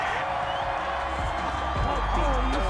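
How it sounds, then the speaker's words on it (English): Stadium crowd in a football video game roaring in disapproval after a roughing-the-passer penalty, a dense, steady wall of boos and shouts with a few louder swells, continuous throughout. "this crowd does not like that call. Understandable reaction from them."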